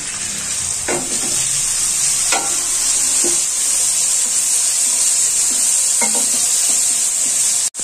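Okra do pyaza with turmeric is stirred in a hot pan, a constant loud sizzle with a few scraping strokes of the spoon spaced irregularly through it, and no voices.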